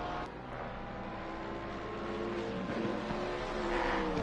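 Porsche and Mercedes race car engines from Assetto Corsa Competizione on PS5 at Imola, a steady layered engine drone with shifting harmonic whine that slowly grows louder, as if cars close in, with no voices.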